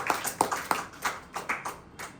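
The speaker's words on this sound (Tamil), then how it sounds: "நல்ல கைத்தட்டு" Audience clapping during a Tamil Christian sermon on God's protection: a loose, uneven run of roughly eight to ten distinct hand claps over two seconds, close and moderately loud.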